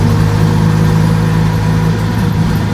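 Steady loud drone of a 1948 Crosley CoBra wagon engine pulling in third gear from inside the car, an even low hum with no speech over it.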